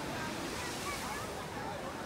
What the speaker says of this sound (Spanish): aquí está el mar, miren esas olas